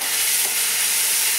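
Chicken frying in a pan with ginger garlic paste for a spicy chicken roast, giving a steady, loud, even sizzle throughout with no voices.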